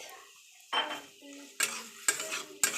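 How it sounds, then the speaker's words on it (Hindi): Potatoes and onions fry in a pan, heard as a few distinct bursts of spatula stirring and scraping against metal over a soft sizzle, close up with quiet gaps between. "आलू और प्याज दोनों फ्राई कर लेंगे"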